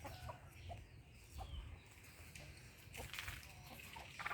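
Chickens cluck softly in the background, with several short calls over a steady outdoor ambience; faint and somewhat distant.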